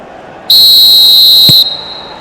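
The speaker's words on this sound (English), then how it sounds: "There's the whistle." A referee's whistle blows in the PES 2021 football video game, one loud sustained shrill blast lasting about a second over a quiet stadium bed.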